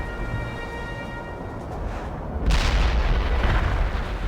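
Heavy artillery fires in World in Conflict, a deep booming blast that erupts partway through over a constant low battlefield rumble.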